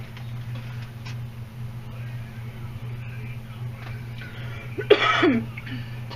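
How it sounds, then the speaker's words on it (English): A single sharp cough bursts out indoors over a steady low electrical hum, brief and close, with quiet background before and after. "Sorry for the cough."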